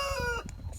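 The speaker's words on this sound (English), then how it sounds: "This is our rooster, Rocky." A backyard rooster by a chicken pen gives a brief close cluck with a dog and other farm noise around, faint and short.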